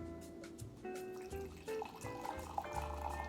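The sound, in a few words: pouring brewed coffee from American Press into glass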